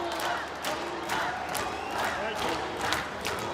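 A boxing match crowd applauds and cheers in a large arena, a dense continuous wash of clapping and crowd noise with some voices mixed in.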